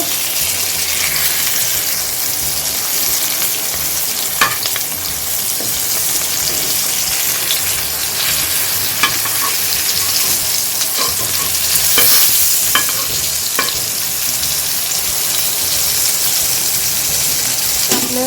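Pomfret fish fries in a pan and is flipped over, a loud, close, continuous sizzle with a few sharp clatters and scraping stirs as the pieces are turned; no one speaks.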